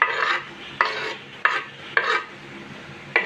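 Onion goes into a pan for Bicolano-style paksiw with anchovies and garlic: a sizzling fry broken by five sharp scraping stirs at roughly even intervals, close up, with no talk.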